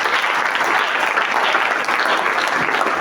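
A church congregation applauding the Lord, loud continuous clapping from many hands close by, steady for the whole stretch with faint voices underneath.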